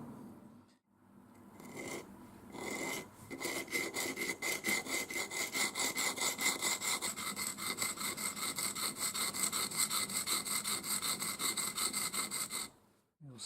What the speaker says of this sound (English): Grind a little facet on that corner.